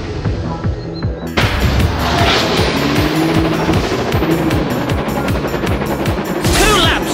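Engines racing in a Thomas & Friends racing video game, a loud, steady roar of motors with rhythmic clatter and a sudden burst of louder action, game sound effects layered over it with little speech.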